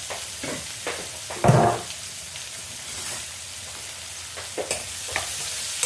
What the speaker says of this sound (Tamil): நறுக்கி வச்சுருக்கிற ஒரு மீடியம் சைஸ் ஆனியன் அதை போட்டுடுறோம்